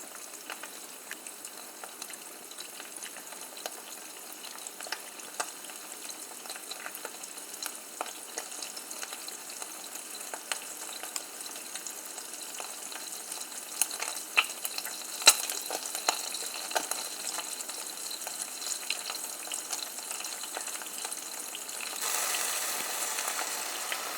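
Eggs frying in a pan for pita sandwiches, a faint, steady sizzle with scattered small pops and crackles that grows slightly busier toward the end, heard alone without talk.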